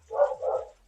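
A dog gives two short, muffled barks in quick succession, close and moderately loud, with nothing else around.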